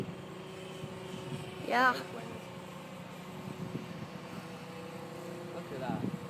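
An FMS 800mm Focke Wulf RC model warplane flies overhead, giving off a faint, steady motor whine from a distance, while people talk nearby.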